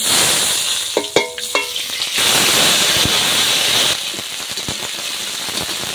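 Green chili, ginger and cumin paste hitting hot oil in a pan with a loud, steady sizzle and hiss, a few spatula scrapes and bubbling pops up close.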